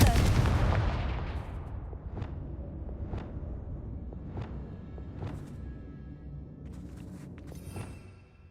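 Confringo fire spell blasts in Hogwarts Legacy: a heavy opening boom that rolls away, then a series of sharp cracking impacts about once a second, fairly loud over a rumbling background.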